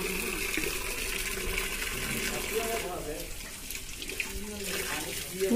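Water runs steadily from a village tap supplied by a piped water scheme, a continuous splashing gush with voices talking over it.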